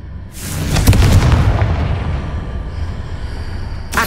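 A Confringo blasting spell explodes in the Hogwarts Legacy video game, a loud booming detonation with a crackling burst that rumbles and decays over a few seconds, then a fresh crack at the end.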